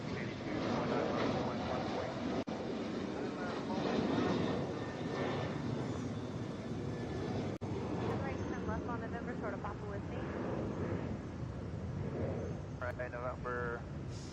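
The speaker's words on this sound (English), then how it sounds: "That Ethiopian airline flight is a 787-8" An Ethiopian Airlines Boeing 787-8 Dreamliner jet at Atlanta's airport gives a steady, broad roar that holds for the whole stretch at moderate distance, with people talking over it.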